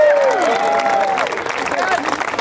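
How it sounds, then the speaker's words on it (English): Outdoor street rally crowd in Bay Ridge applauding and cheering, a broad wash of clapping and voices, with a speaker's voice rising over it at the start. "Let's give a great round of applause to the owner and operator,"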